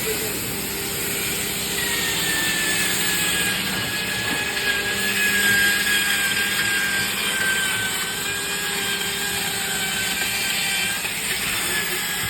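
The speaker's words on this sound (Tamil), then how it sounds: "ஃபினிஷிங் பாலிஷ் பண்ணுறதுக்கான மிஷின் எல்லாமே போட்டு நீட்டாகவே அடித்து எடுத்துருவோம்." A finishing polish machine works on wooden furniture, giving a loud, steady motor drone with a high whine that holds throughout.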